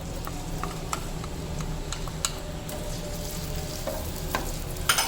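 Onion and garam masala fry in about a quarter cup of hot oil in a pan for chicken aloo curry, giving a steady close sizzle with scattered light ticks and spoon scrapes throughout.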